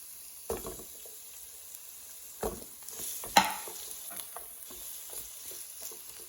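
Onions and garlic frying in a hot pan for Cajun chicken fajita pasta, a quiet hiss punctuated by a few sharp clacks and scrapes as the pan is stirred.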